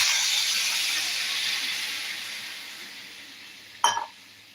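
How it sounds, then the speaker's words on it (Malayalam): Hot water pours into chapati flour with a soft, steady hiss that slowly fades, ending in a short clatter. "നമുക്കുള്ള ചൂടുവെള്ളം ഒഴിച്ചു കൊടുക്കാം"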